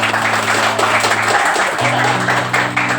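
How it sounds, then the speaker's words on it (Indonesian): Students applauding in a classroom after a correct quiz answer, a steady busy clatter of many hands clapping close by, over a constant low background hum. "Wah, tepuk tangan."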